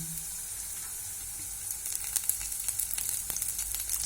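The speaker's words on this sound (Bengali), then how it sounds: "কাজু এবং কিশমিশটা দিয়ে আর একটু নাড়িয়ে নেবেন।" Cashews and raisins fry in a hot pan for a Bengali flattened-rice pulao, a steady close sizzle with scraping stirs growing busier toward the end.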